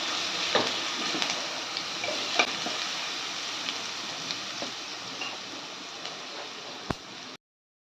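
Curry leaves, garlic and green chili paste sautéing in hot oil for a tempering, a dense continuous crackling sizzle with sharp pops scattered through, close and steady until it cuts off.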